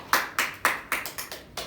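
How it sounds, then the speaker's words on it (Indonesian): Students in a classroom during a micro-teaching lesson clap hands together in unison, about seven sharp, evenly spaced claps close by and with no talk over them. "Silahkan tepuk tangan dulu"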